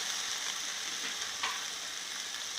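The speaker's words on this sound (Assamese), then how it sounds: "भेंडीखिनि মোৰ অকমান ফ্ৰাই হৈ গ'ল।" Okra slices fry in a pan with a steady, close hiss of hot oil, a faint stir scraping once or twice through the sizzle.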